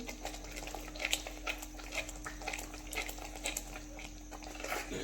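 Kaju masala gravy being stirred in a pan, a soft continuous bubbling and scraping simmer with a steady low hum behind it, quiet and close, no talk.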